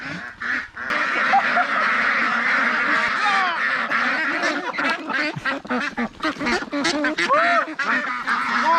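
A large flock of ducks at a rural Vietnamese duck farm quacks and honks continuously and loudly, a dense overlapping chorus with wing flaps and splashing, some calls close by.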